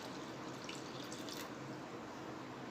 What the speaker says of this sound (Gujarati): તો આપણે પૌવામાં પાણી એડ કરીશું।